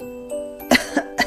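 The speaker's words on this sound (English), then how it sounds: "Everyone coughed." Several people cough in a kitchen filled with airborne flour: three short, sharp coughs in quick succession, close and fairly loud, following a brief chiming tone.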